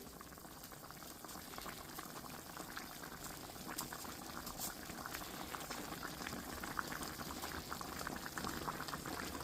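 Continuous rolling bubbling of water at a full boil with pasta in it, steady and fairly quiet, with no voices.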